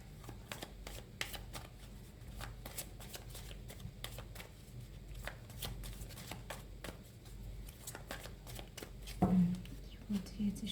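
Tarot cards shuffled and drawn from the deck, giving a steady run of soft riffling clicks and flicks close by, with a quiet voice and faint rustle near the end.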